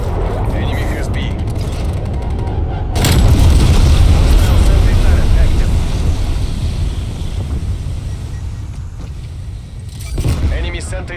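A napalm strike in Call of Duty Black Ops Cold War sets off a heavy, sustained rumble of explosions that swells loudly and then slowly tails off, with a voice speaking over it.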